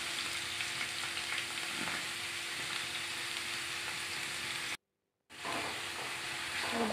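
Garlic and onion frying in hot oil in a wok give a steady, dense sizzle close by, broken by a brief dropout of silence near the end before the hiss resumes, with no talking.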